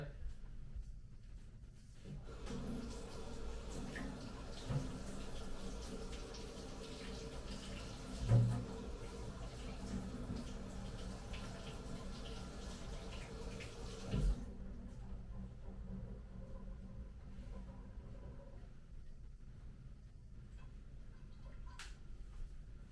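Tap water runs steadily for about twelve seconds while an Aeropress is rinsed in a sink, with a couple of faint clinks, then stops, leaving a quieter room.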